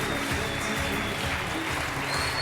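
A TV game show studio audience applauds a winning contestant, a steady, dense wash of clapping filling the whole stretch with a faint voice underneath.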